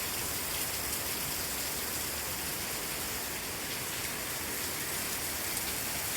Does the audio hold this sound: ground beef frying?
no